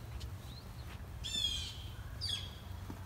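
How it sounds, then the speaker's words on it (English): Crows call outdoors in the background of a garage workspace during work on a 1965 Scout 800's front disc brakes, giving two or three short harsh caws over a low steady hum. "hopefully those birds will shut up in the background while we're working"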